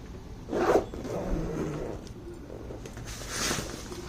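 Zipper pulled shut on a fabric storage bag holding folded dupattas, a soft rasping zip near the start and another toward the end, close and quiet.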